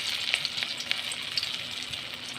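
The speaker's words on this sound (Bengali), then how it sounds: "আমি কিছু পরিমাণে সয়াবিন তেল দিয়ে দিলাম বড়াগুলো ভাজার জন্য" Taro leaf fritters (boras) frying in soybean oil, a soft, steady sizzle with light bubbling crackles, fairly quiet and close.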